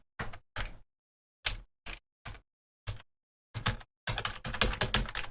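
A title typed on a computer keyboard, heard as crisp, close clicks: separate keystrokes with pauses, then a quick continuous run of typing at the end.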